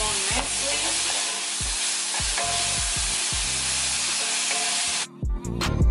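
Steak sizzling loudly on a hot hibachi-style griddle at home, a steady dense hiss broken by repeated low scraping knocks of a spatula, the sizzle cutting off near the end.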